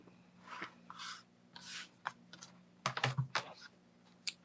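Trimming a Jacob's Ladder quilt block at close range, a run of short, soft scraping and slicing strokes with small taps, each one brief and separate, quiet, with no voices.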